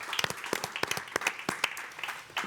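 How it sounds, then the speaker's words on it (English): Audience at a live-streamed defense policy panel event gives a light round of applause, sparse distinct claps at moderate distance, fairly quiet. "I would hope that you'd give them a warm round of applause for the great conversation we had"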